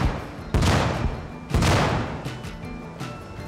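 Two loud, close blasts from a volcano eruption simulation rip out about a second apart, each a sharp broadband boom trailing off into a rumbling roar, with fainter pops afterward.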